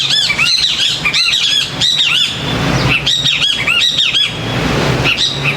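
Birds chirp and sing loudly and close by in a busy chorus of repeated tweets and trills that runs continuously with no voices.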